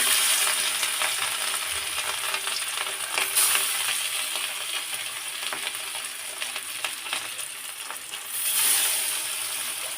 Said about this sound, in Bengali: আর আমি কিন্তু মাছটা এখন ঢেকে ভাজি করব না একদম সরাসরি এমনি ডাকনা সারাই ভাজি করে নিব